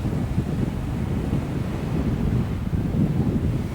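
Steady wind and rain roar around a resort on Koh Samui, Thailand, a dense, constant low rumble that surges slightly at times, with no voices.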